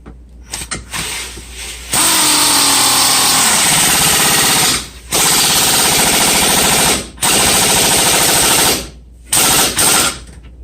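A power tool tightens lower control arm bolts on a Hyundai Santa Fe during a control arm and ball joint replacement, firing four loud, close, rattling bursts of a couple of seconds each, separated by short pauses.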